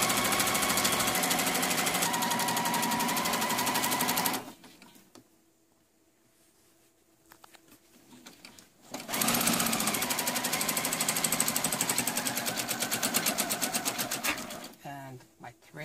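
A sewing machine stitches a happi coat in fast, loud, continuous mechanical bursts, stopping for a few seconds of quiet before running again and then cutting off near the end.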